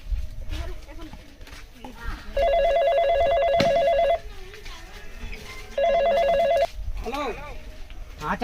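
A telephone rings with an electronic trilling bell in two separate bursts. Each burst lasts a couple of seconds, set in a noisy comedy scene with talking and background sound throughout.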